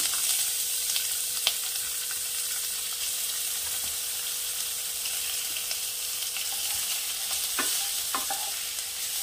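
Boneless chicken frying in a pot, a loud continuous hissing sizzle that stays steady throughout, with a few light clinks and stirring knocks near the end and no talking.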